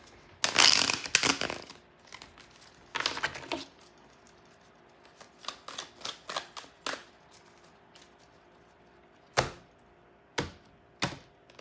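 Bursts of papery tarot card shuffling, a few longer riffles early on followed by a scattering of short flicks and snaps, close and fairly clear with no talking.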